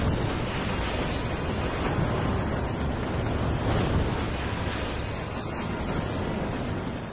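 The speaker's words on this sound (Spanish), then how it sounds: "Hombres, animales y plantas sufren la violencia del viento y del mar." Hurricane wind drives heavy sea surf onto a coast with reefs and mangroves, a loud, unbroken roar of wind and breaking waves with strong buffeting on the microphone.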